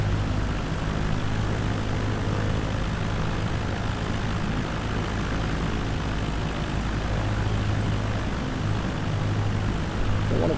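A propeller plane engine in a flight simulator game drones steadily and loudly throughout a windy landing approach in Japan, a constant roar with a low throbbing hum and no voices.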